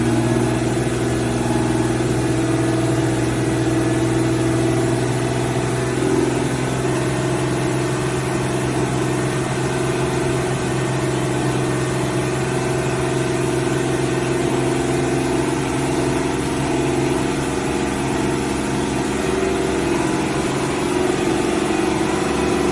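An Aston Martin engine runs at a steady 2,500 RPM under slight load, a constant droning hum throughout with no change in pitch.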